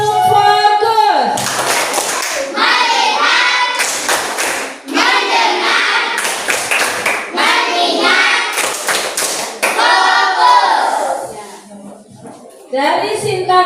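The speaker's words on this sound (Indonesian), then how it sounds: "Coba beri tepuk fokus." Fifth-grade-style classroom of students performing a rhythmic focus clap pattern, loud bursts of synchronized hand claps and desk taps in repeated chanted sequences, with children's voices chanting along between the claps.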